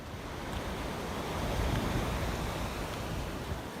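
Ocean surf on Palo Seco Beach in Parita, Costa Rica, a steady broad wash of breaking waves with some wind rumble, continuous and fairly loud, no voices.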